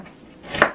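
One crisp knife stroke cuts through an onion on a board, close and sharp, with no voices.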